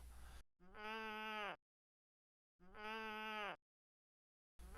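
Sheep bleating in a quiet bedroom at night, two separate wavering bleats, each about a second long, with silence between them.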